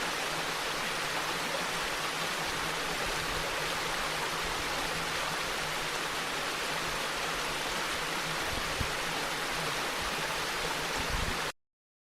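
Steady, full rush of flowing stream water beside Poinsett Bridge, recorded outdoors, loud and unbroken for the whole stretch before it cuts off abruptly.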